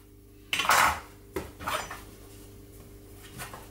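Brioche dough being cut into portions with a scraper or knife on a floured kitchen surface, giving a sharp metallic clatter, a second knock, then softer scraping and a faint final tap, all close and without talking.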